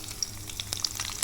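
Crushed garlic and mustard seeds fry in hot ghee in a pot, a soft steady sizzle broken by small sharp pops and crackles, fairly quiet and with no talk.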